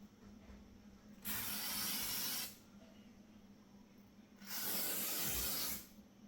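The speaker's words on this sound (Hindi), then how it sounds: "इसे 10 सेंटीमीटर के डिस्टेंस से ही स्प्रे करना है" A Sanfe hair removal spray is sprayed from a can about 10 centimetres from the skin in two steady hissing bursts of over a second each, separated by a quiet pause.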